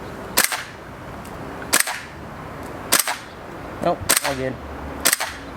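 A VFC HK416 gas blowback airsoft rifle fires five sharp, evenly spaced single shots outdoors, each a crisp snap with a short action clack, while a voice speaks briefly between the later shots.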